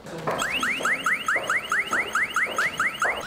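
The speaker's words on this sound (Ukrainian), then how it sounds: "одразу починає працювати сигналізація, яка відганяє ось цих всіх шкідників від полів" An electronic bird-scaring alarm on a field-guarding robot repeats a rapid rising chirp about three times a second, loud and mechanical, with no voices.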